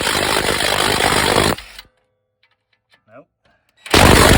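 A Ryobi power tool works on a suspension bolt of a BMW E36, with a loud, harsh burst of motor and impact rattle that cuts out, a short quiet gap with a brief spoken word, then another loud burst.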